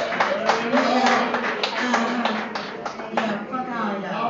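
Audience applause at a stand-up comedy show: a scattering of claps and cheers runs throughout, mixed under a person talking over them.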